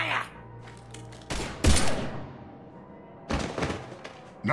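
Bursts of gunfire in the video game Mass Effect 3, with a heavy volley and thumping impacts, then a second burst a couple of seconds later, mixed with game sound and voices.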